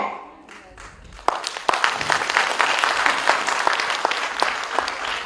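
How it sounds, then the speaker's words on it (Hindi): Audience applause breaks out at a comedic political speech event, a burst of clapping that starts suddenly and swells into sustained, dense applause from a crowd, with quieter talk before it begins. "आपने ताली पड़काया"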